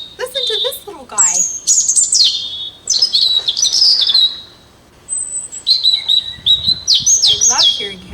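A small bird chirps and tweets in quick bursts of high, sweeping calls, close and lively, with a brief pause midway before the calls resume.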